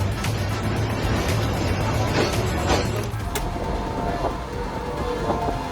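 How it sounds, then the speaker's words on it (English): A train ploughs through deep snowdrifts with a heavy, continuous broadband roar and rumble, loud and close, with brief bursts of crunching and whooshing along the way. "It's just a train powering through snowdrifts."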